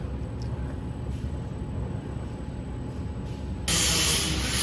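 A VME-300L vacuum emulsifying mixer runs its mixing function with a steady low mechanical rumble, then a loud broad hiss cuts in near the end.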